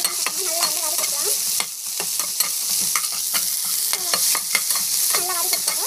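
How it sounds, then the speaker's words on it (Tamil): Garlic, coconut and dried red chillies sauté in hot oil, a steady close sizzle broken by frequent scraping stirs of a spatula against the pan, with no talk. "காஞ்ச மிளகா நல்லா வந்து வதக்கிக்கலாம்."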